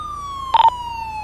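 A police car siren wails steadily through a GTA 5 LSPDFR patrol scene with a BCSO 2019 Chevy Silverado, a sustained wavering tone that briefly swells louder around a short burst of another electronic tone.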